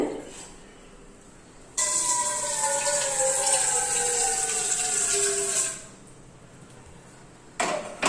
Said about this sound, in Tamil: இட்லி சட்டியில் தண்ணி ஊற்றி கொதிக்க வச்சுருக்கேன்